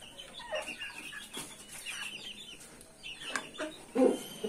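Roosters peck and cluck softly while eating a special treat such as sweet pumpkin, giving short scattered clucks and low murmurs close by, with one louder cluck near the end.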